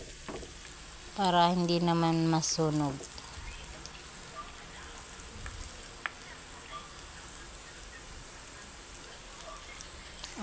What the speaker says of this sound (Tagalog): Tingnan na lang guys kapag nagpiprito tayo kung okay na ba